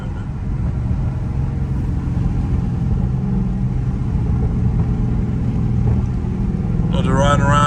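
A catless Dodge Challenger Scat Pack 392 V8 drones loudly and steadily while driving in traffic, rising toward the end, with a voice heard over it.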